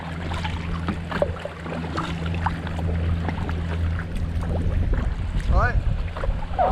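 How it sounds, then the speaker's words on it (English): A motor launch passes on the River Ouse, its engine a low steady drone heard from a kayak amid wind buffeting the microphone, with water sounds and a brief bird call near the end. "That's a motor launch."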